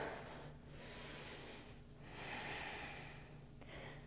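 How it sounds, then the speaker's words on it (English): Slow, deep breathing during a vinyasa yoga practice, three or four long airy inhales and exhales close to the mic, soft and rhythmic with no talk. "Nice deep breaths."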